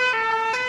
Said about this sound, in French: Mais voici le son que fait le camion de pompiers.